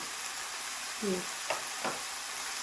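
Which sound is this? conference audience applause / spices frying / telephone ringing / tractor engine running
spices frying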